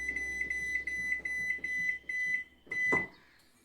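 Microwave oven keypad beeps repeat in quick short pips as power level and an eight-minute cook time are set, followed by a louder longer tone near the end.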